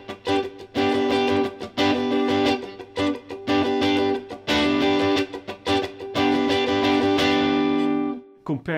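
An acoustic guitar is strummed with a loosely held pick in a rhythmic pattern of full chords, with short gaps between bursts, smooth and close with no talking.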